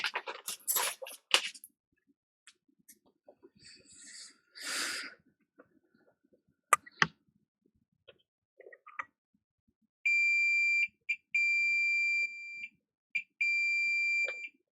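Continuous electronic beeps from a multimeter's continuity tester probing a shorted capacitor on an iPhone 6 Plus board, sounding as several steady tones that stop and restart, after scattered clicks and handling noises.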